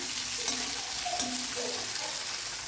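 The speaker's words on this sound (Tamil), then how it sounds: "இது மூணுமே நல்லா வதங்கட்டுங்க" Coconut and garlic sautéing in a pan for a village-style dry fish curry, a steady close sizzle with a couple of sharp spatter pops.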